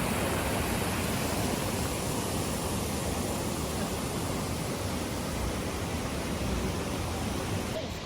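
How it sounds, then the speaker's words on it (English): Ouzoud Waterfalls in Morocco, among the tallest falls in Africa, give a steady, dense roar of falling water with no break, heard close and loud throughout. "We are at the second tallest waterfall in Africa."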